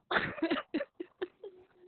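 A burst of coughing, one heavy cough then several shorter ones tapering off, close and fairly quiet.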